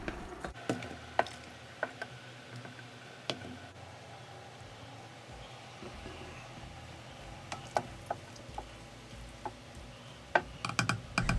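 Sweet relish brine boiling in a pot on the stove while a utensil stirs it, a quiet bubbling simmer broken by sporadic light clicks and taps of the spoon against the pot, with no talk.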